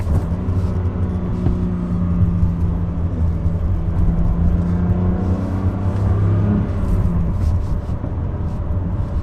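Engine of a BMW M2 Competition pulling hard while being driven, heard from inside the cabin as a steady, loud low rumble and drone with a slight rise in pitch, no talking over it.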